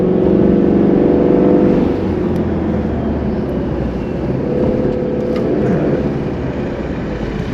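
A car backing slowly across a dirt and sand construction site in a new-home development, its engine a steady low drone with some road rumble, louder at first and then settling to an even hum, with no talking.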